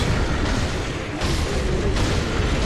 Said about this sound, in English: Use your firecrackers.